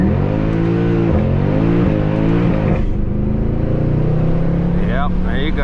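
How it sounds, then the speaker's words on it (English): A Mercedes C63 AMG launched at full throttle with a loud, rising engine roar through close gear pulls and a short shift into third, then a steady drone as people talk over it. "let's see what happens when you just punched the throttle"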